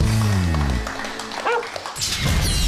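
A performing dog on a television show barks loudly and close, with drawn-out, howl-like barks at first, then shorter yips and whimpers.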